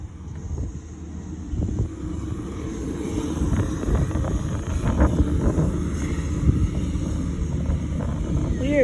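A fixed-wing airplane flying overhead near Cherry Capital Airport, a steady low engine drone that swells gradually as it passes, heard outdoors at a distance with faint background noise.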